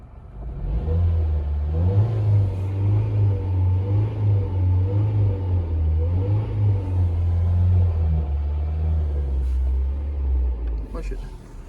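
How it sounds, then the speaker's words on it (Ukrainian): A warmed-up car engine idles at 800 rpm with a steady low rumbling hum and slight undulation, close and continuous, while someone talks over it. "автомобіль прогрітий, 800 обертів"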